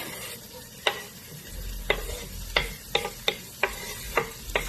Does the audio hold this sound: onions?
yes